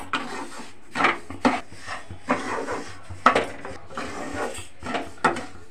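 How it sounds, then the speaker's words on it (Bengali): Dry dalia (broken wheat) being stirred and toasted in a pan, a series of close scraping, rubbing strokes of a spatula against the pan in an uneven rhythm, with no talk. "নাড়াচাড়া দিয়ে ভালো করে একটু ভেজে নেব।"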